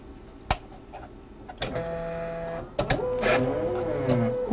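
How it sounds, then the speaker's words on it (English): A hematology analyzer at an equine clinic runs a blood sample, giving a sharp click, then steady mechanical whirring with tonal motor hums and a louder stretch of humming and clicking near the end. "Just going to run this sample on the hematology machine"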